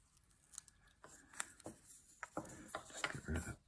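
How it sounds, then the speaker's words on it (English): A wood carving for St Patrick's Day being shaped with a scoop cut, giving short scraping and cutting strokes at close range, fairly quiet and irregular, with a few sharper bursts near the end. "just take a little scoop cut from the ears"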